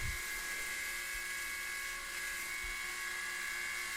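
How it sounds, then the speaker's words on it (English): A surface grinder with a fresh new belt flattens forged twist Damascus steel made with nickel powder. It gives a steady, high-pitched whine with a few faint low thumps at the start and end. The sound is fairly quiet and continuous, with no talking. "before I start on the surface grinder with a fresh new belt"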